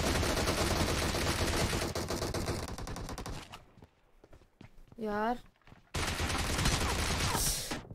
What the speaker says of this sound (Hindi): इससे तेज क्या गोली चलाऊंगी मैं?